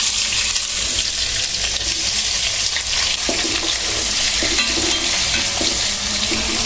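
Onions fry in a pan for a Bangladeshi hotel-style chana dal, a loud, dense sizzle with watery crackling and stirring, close up and steady without talk.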